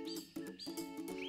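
Birds call near the microphone in a short series of clear, pitched coos and chirps, a few repeated notes in quick succession, fairly loud and alone, with no talk.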